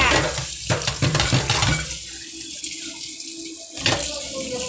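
Water splashing and pouring close by as someone bathes a reluctant subject, with intermittent sloshes and running-water noise over a steady background, rising in bursts and then easing.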